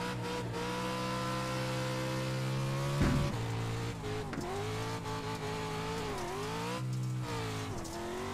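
Simulated stadium truck drifting around a track in the iRacing game, its engine droning steadily with shifting revs and tire noise throughout, with a brief louder burst near the middle.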